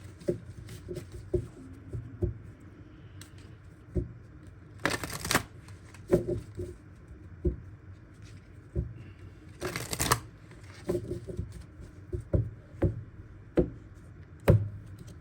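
Oracle cards are shuffled by hand in a quiet room. Soft papery taps and riffles come in irregular bursts, with two longer brushing shuffles, all close and fairly faint.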